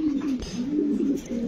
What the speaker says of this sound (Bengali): গ্যানাডিনো কবুতর দর্শক দেখেন, ডাক কিন্তু থামে না